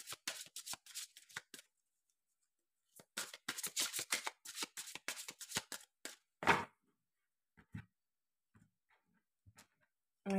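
Fairy oracle cards shuffled in two quick riffled bursts of crisp, close flicking, followed by a loud single snap and a few faint taps as cards are drawn, with no talking.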